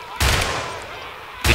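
Loud, close gunshots ring out in the zombie survival game DZS Survival: one sharp shot with a long reverberant tail, then a second shot right at the end.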